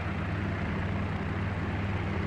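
A helicopter flying in the X-Plane flight simulator, a steady, dense engine and rotor drone held at an even level throughout, with no voices.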